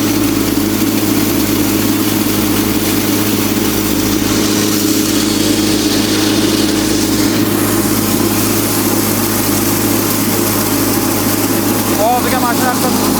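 A Chinese-made farm machine runs steadily, its engine droning at a constant idle while grain pours out, with people talking nearby over the continuous mechanical hum.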